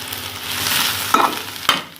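Boiled, shredded chicken tossed into onions frying in a pan for samosa filling, giving a steady close sizzle with two sharp scraping stir clatters near the end.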